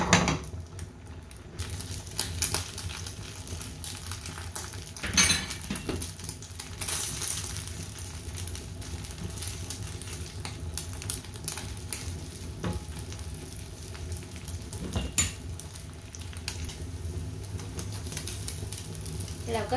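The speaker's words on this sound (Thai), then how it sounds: "เมื่อน้ำมันของเราร้อนนะคะก็ใส่ไข่ดอกขจรไปได้เลยค่ะ" Egg mixed with khajorn flowers fries in a little hot oil in a pan over medium heat, giving a steady close sizzle and crackle throughout, with faint kitchen clatter.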